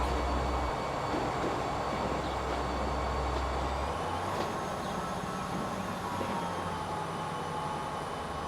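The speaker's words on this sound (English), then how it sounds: "That's one of our steel trains coming back." A steel train running in Transport Fever 2, a low continuous rumble of wheels and engine with a deep drone that shifts partway through, steady and fairly close with no talking.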